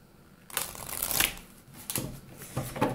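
A deck of goddess oracle cards being shuffled by hand, with a few quick riffling bursts of papery flutter and slaps, close and clear, with no talking.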